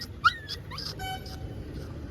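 A small puppy lets out a few short, high whimpers and yips near the start, faint and close, with traffic or vehicle noise behind it.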